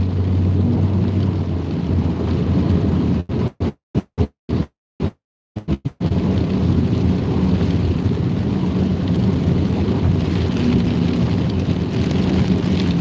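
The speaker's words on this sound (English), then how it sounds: "They've got lightning and hail, heavy winds" Steady rain and storm noise during a night thunderstorm in a tornado outbreak with lightning, hail and heavy winds, a loud continuous wash broken by a few seconds of choppy dropouts.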